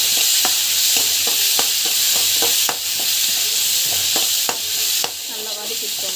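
Turmeric and spices sauté in a pan under a loud, constant sizzling hiss, punctuated by repeated sharp scrapes of a spoon stirring close by.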